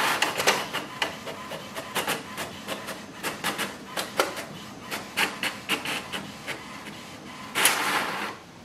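An HP Smart Tank printer runs close by, giving a steady rhythm of short mechanical clicks and rasps as paper feeds through, ending with a louder whirring sweep.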